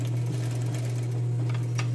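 Sewing machine running a steady stitch back over an existing seam while outlining a trouser buttonhole, a close, continuous motor whir with no pauses or voices.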